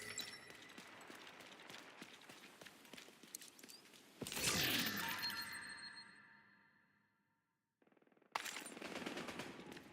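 Video game gunfire rips out in rapid machine-gun bursts, followed by a loud crashing, shattering blast that slowly decays into silence before the noise resumes.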